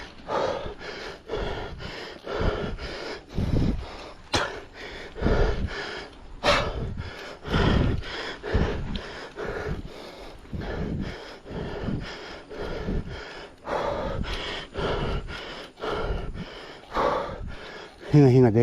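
Heavy, rhythmic panting on an uphill mountain hike, close and loud, each hard breath repeating every second or so for the whole stretch with occasional sharper gasps.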